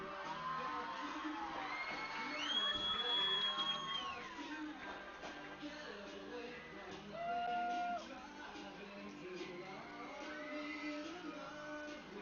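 At a high school football game, a large JV and varsity cheer squad shouts and whoops, with crowd noise all around and voices rising and falling over several seconds at moderate distance.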